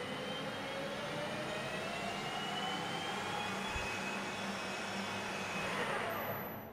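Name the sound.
lathe speeding up as the tool plunges in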